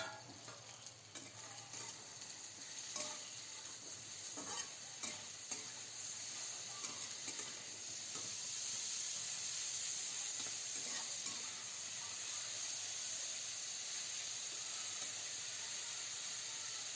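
Spices and mushrooms sizzle steadily in a pan of mustard oil and ghee, a constant bright frying hiss with occasional scraping stirs throughout.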